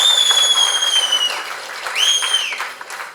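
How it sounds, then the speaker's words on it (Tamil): A theatre audience claps steadily in a dense, close wash of applause, with loud, sharp whistles rising above the clapping twice. "அங்கே கனிஷ்கா அவனுடைய நண்பர்கள் தனியாக அவனுக்கு வந்து ஹோல்டர் பண்ணி கைத்தட்டிக்கிட்டே இருக்காங்க."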